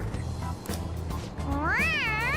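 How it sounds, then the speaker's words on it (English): A stuffed toy cat from the game Persona 5 lets out a clear, rising-and-falling electronic meow when its head is pressed, loud and alone over a steady background hum. "It's a stuffed animal. Yeah, it's just a toy. It meows when you press on its head."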